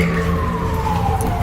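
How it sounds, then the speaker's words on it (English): An ambulance siren wails steadily at a campsite, a sustained tone sliding slowly downward, loud and fairly close throughout. "I'm like, it's an ambulance."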